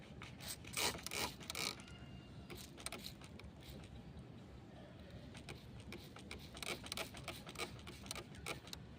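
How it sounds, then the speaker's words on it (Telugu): A spray bottle filled with soda mixed in water is squeezed onto mealybugs on a plant, giving repeated short, faint hissing bursts with a few clicks from the trigger mechanism in between. "దీని మీద ఇప్పుడు స్ప్రే కొట్టుకోవాలి"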